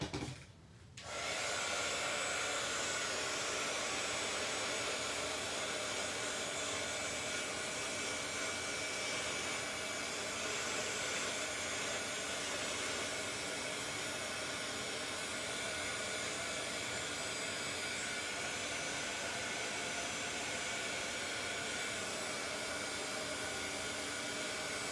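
A heat tool roars steadily at close range for over twenty seconds, melting glittery embossing powder on a paper tag, a constant blowing whoosh with no talk.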